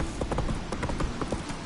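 In a video game, a horse's hooves clip-clop in a quick, steady rhythm at close range, loud and continuous throughout the short moment with no talk over them.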